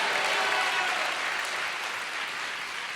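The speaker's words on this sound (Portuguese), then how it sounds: "dá uma salva de palmas em nome de Jesus ao nosso Deus" Congregation at a church service applauds, a dense, even wash of clapping from many people that holds steady and eases slightly toward the end.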